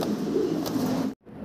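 A pair of huge fancy pigeons in a cage coo in a loud, close, wavering rumble, cut off abruptly near the end before faint sound resumes.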